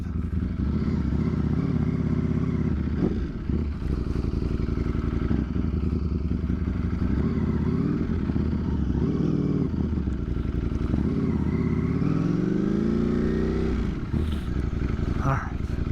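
A 200+ horsepower motorcycle fitted with a smaller front sprocket accelerates hard through wheelie shifts, its engine droning loud and close and rising in pitch near the end, with a voice talking over it.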